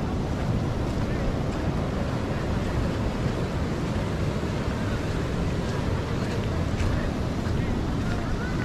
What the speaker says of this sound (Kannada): ನೋಡಿ ಅಲ್ಲಿ ನೀರು ತುಂಬ ಸ್ಪೀಡಾಗಿ ಬರ್ತಾ ಇದೆ